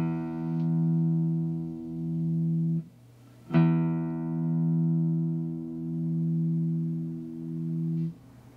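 Low E sixth string of a guitar plucked twice for tuning, each note ringing with a steady sustained tone and slow gentle pulsing, the second pluck sharper at its attack, heard alone and close.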